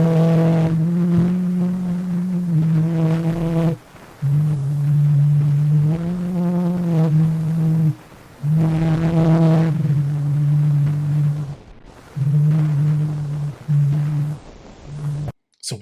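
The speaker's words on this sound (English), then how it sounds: "what you just heard is the sound of Leon Scott humming Au clair de la lune" An early phonautograph recording of a man humming the melody of Au clair de la lune, heard as a steady, buzzy hummed tune in sustained phrases separated by brief silences, scratchy and lo-fi throughout.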